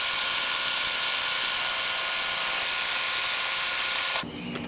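Embroidery machine stitching a tack-down line over batting on a composition notebook cover, a steady, loud, continuous motorized whir with rapid needle buzz that cuts off abruptly near the end.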